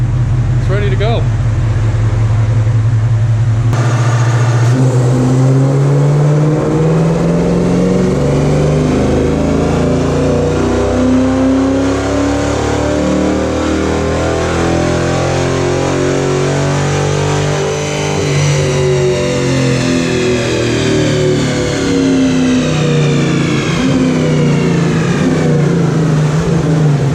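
A full bolt-on Dodge Charger R/T on a dyno, sport mode with stability control off, roars loudly as the engine climbs through a long sustained rev, its pitch sweeping upward and holding, steady and unbroken throughout.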